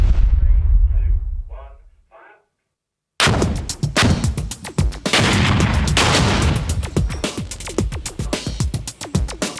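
A few muffled thuds fade into silence, then a loud sustained barrage of sharp explosive bangs and cracks rolls on continuously, close and chaotic.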